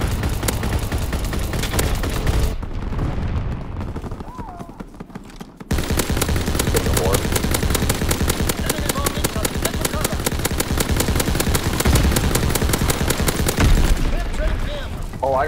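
Rapid, sustained machine-gun fire aimed at an enemy aircraft in a combat video game, dense bursts with a brief lull before resuming loud and steady, with voices talking over the shooting.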